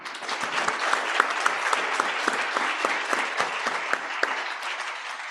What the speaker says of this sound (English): deserve a rousing applause one last time